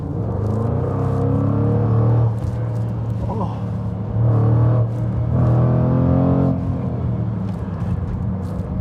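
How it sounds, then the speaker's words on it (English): Exhaust of a 2024 Jaguar F-Pace SVR V8, heard from inside the car as a deep droning rumble that swells in several loud surges and eases between them, with a brief voice briefly over it. "I'll let you listen to the exhaust, because I hope you can hear it through the microphones on this car"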